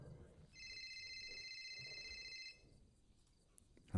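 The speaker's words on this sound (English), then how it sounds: "Harry, put the goddamn phone down." A telephone rings with a steady electronic trill for about two seconds in a role-play game stream, fairly faint beneath low background noise, then stops.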